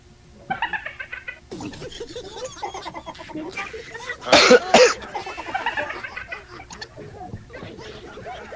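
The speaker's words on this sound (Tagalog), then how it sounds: "Saglit lang, ubo ako eh." A man on a live radio call-in show coughs a couple of times close to the mic, a short loud burst in the middle amid scattered speech and background noise.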